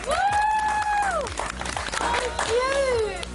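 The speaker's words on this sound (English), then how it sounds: "Give them a round of applause, everybody." A crowd claps and cheers to welcome circus performers arriving for a show on a home-renovation program, loud and close, with whistles or vocal calls rising over the applause and voices mixed in.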